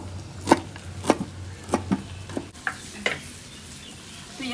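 Onion, garlic and ginger frying in a pan for an Andhra chilli chicken curry give a steady, soft sizzle, broken by a few sharp knocks and clatters of a utensil early on.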